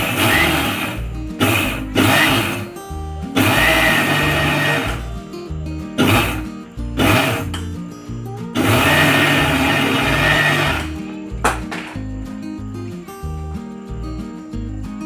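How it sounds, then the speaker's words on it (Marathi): A kitchen mixer grinder pulses on and off several times while grinding niger seeds for chutney, loud whirring bursts of varying length separated by brief pauses, close and alone. "मिक्सरला लावून घेऊया आणि बंद चालू करून 3 ते 4 वेळा बंद चालू करत फिरवून घ्यायचं आहे।"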